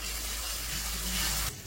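Green chillies hit hot oil with fried onions, giving a steady, broad sizzle close by that runs evenly for a moment and then drops off sharply near the end, with no voices.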